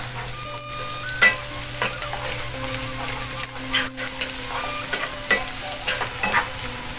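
Sliced shallots frying in oil until golden for a shrimp and vegetable dish, a continuous close sizzle and crackle with occasional spatula scrapes and stirring knocks throughout.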